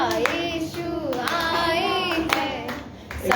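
A church congregation claps along to a Resurrection Sunday worship song in Goa, steady rhythmic clapping mixed with singing voices.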